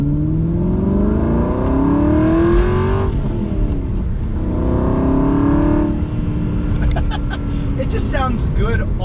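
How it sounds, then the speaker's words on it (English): An Aston Martin V8 Vantage with a modified exhaust revs and accelerates from inside the car, its loud engine note climbing twice with a gear change between. A constant road roar sits underneath and a voice comes in near the end. "It just sounds good all the way through the rev range versus not all the way through the rev range."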